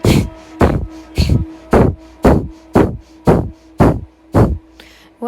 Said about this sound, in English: So moving into the breath of fire, breathing in and out through the nose,